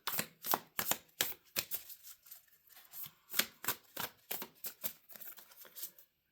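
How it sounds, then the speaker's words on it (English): A deck of tarot cards is shuffled by hand, a close series of crisp riffling bursts in uneven rhythm with brief gaps between, no voice over them. "So let me shuffle these."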